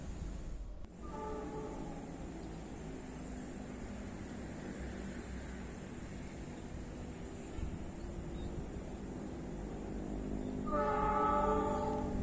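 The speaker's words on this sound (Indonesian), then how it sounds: "Kereta api Lodaya ini datang dari arah barat, dari arah stasiun Ciawi" The Lodaya passenger train approaches Rajapolah station near a flyover in Tasikmalaya, heard as a steady, distant rumble of rolling stock that grows louder toward the end with a faint horn-like tone.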